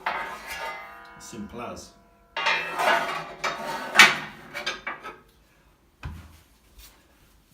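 Metal ash pan pulled from the base of a Parkray Consort 5 wood stove, giving a run of clattering scrapes and knocks, close and fairly loud, with a brief spoken remark and a final thud.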